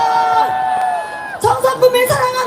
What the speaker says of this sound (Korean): 교수님과 의원님과 시민들께 박수 한번 해주세요